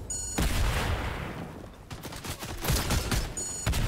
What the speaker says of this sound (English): Of course they're spamming explosives